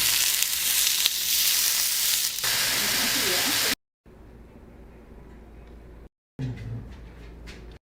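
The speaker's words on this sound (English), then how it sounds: "So I'm going to cook these burgers." Bacon cheddar burgers frying in a pan, a loud continuous sizzle with a quieter crackling stretch after a cut, then a brief burst of sizzling.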